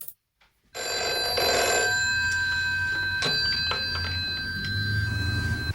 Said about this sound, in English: She rings up the caretaker to go and check on Tony in the apartment.